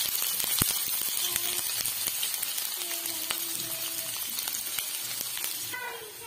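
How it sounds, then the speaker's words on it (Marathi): Onion frying in hot oil in a heated kadhai, a steady close sizzle that runs through the whole stretch, with occasional stirring clinks and no talking over it. "आता मी कांदा छान परतून घेणार आहे"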